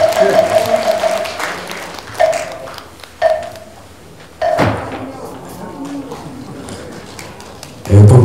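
Hall applause at a Buddhist newspaper anniversary and inauguration ceremony, clapping breaking out in a few short bursts with gaps between them, along with a speaking voice and a tonal chime early on.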